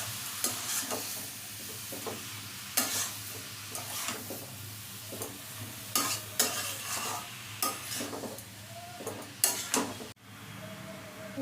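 Ash gourd stirred with spices in a pan, a spatula scraping and knocking in repeated strokes over a low sizzle, close and moderately quiet.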